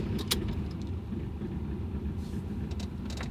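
A car engine idling roughly after an oil change high in the Ecuadorian mountains on a cold day, a steady low rumble throughout with a few faint metallic clicks or jingles over it.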